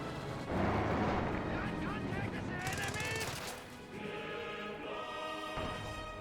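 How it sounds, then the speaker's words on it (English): Land Mattress rocket artillery fires in Company of Heroes 2 amid battle noise, a burst of rapid rocket launches and crackling blasts with a commentator talking over it. "looks like the land mattress did fire a rocket"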